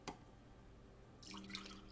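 Contaminated water from a pastel-cleaning rinse is poured or dripped into a bucket, a soft splash at the start, then a busier trickle and spatter of liquid near the end, close and fairly quiet.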